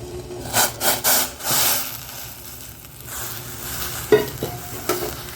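A utensil scrapes and rubs through thick ragi flour stirred into boiling water in a pot, a few strong strokes early, then quieter scraping with occasional knocks.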